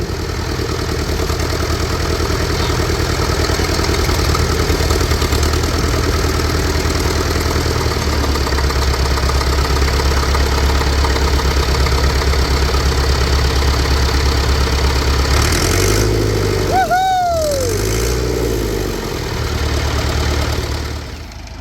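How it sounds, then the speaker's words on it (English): A tractor engine idles steadily and loudly for a long stretch, its low rumble shifting near the end as the revs change briefly. "thank goodness we got the tractor going again"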